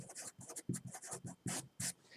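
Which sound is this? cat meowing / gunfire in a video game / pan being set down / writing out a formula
writing out a formula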